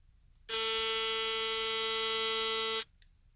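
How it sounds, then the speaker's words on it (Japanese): An electric shaver buzzes loudly and steadily for about two seconds, switching on abruptly and cutting off just as suddenly, with near silence around it. "アンクのシェーバーの音。"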